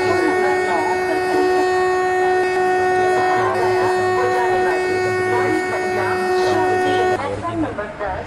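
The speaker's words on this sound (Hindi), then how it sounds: "रेल अनाउंसमेंट और हॉर्न का साउंड भी दोस्तों काफ़ी" A train rumbles steadily with a long, sustained horn tone running throughout, layered under faint background talk and announcement-like voices, in the Rail Works Indian Train Simulator game.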